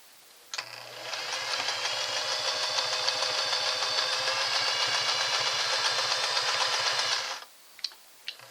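A Singer model 403A sewing machine runs a double needle stitch through fabric, a steady fast mechanical whir with rhythmic needle ticking that starts abruptly, holds for about seven seconds and stops, followed by a few faint clicks.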